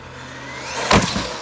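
An RC basher car with large, grippy tires runs at full throttle and hits a jump: a steady motor whir builds, then a sharp, loud burst of impact and spinning noise, followed by a short second thump.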